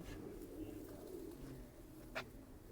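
A soft, low coo from a flying pigeon in Punjab murmurs faintly in the background under steady ambient noise, with a brief chirp near the end.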